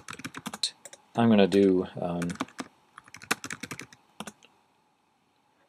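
Clicky computer keyboard typing a web search, short bursts of keystrokes near and moderately loud, with a person speaking briefly in the middle.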